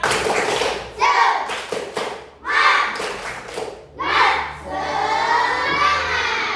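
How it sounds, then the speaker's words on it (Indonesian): Schoolchildren in a classroom perform a rhythmic spirit clap, with bursts of clapping in groups mixed with loud chanting and shouting voices, close and energetic. "Tapi sebelum itu kalian tepuk semangat dulu."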